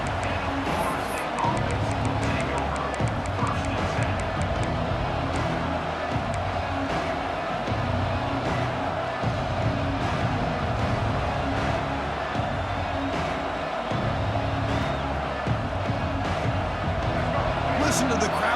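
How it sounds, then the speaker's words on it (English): Steady stadium crowd roar in EA Sports College Football 26 during a Carolina versus UCLA game, a dense continuous wash of cheering and babble throughout, with a commentator's voice talking over it. "Listen to the crowd energy here in the early going."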